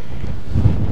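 Strong wind gusts at the Mach Loop, a steady low rumbling buffet on the microphone that swells slightly toward the end, with no voices.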